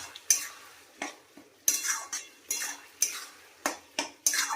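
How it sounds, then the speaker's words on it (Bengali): Rice and spices are stirred in a pan with a metal spoon. Sharp scrapes and clinks repeat roughly every half second over a faint sizzle, close and fairly quiet. "এবার এই চালটার সঙ্গে মশলাটা ভালো মতো কষাতে থাকবো"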